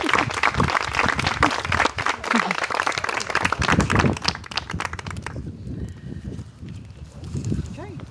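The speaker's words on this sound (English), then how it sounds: "I would like to honor all of our children here today with a round of applause" Round of applause from children and guests at a Montessori school ribbon cutting, loud dense clapping with some chatter for several seconds, then thinning out into quieter scattered claps and voices.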